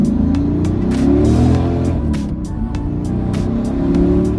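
A Mercedes C55 AMG accelerates hard nearby, its engine revving loudly in a steady climbing roar with brief gear-change dips and no talk over it.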